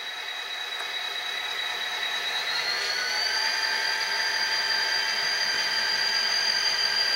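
A model locomotive with an Econami sound decoder throttles up, its diesel engine sound building steadily from idle into a rising high whine, close and continuous, with no talking.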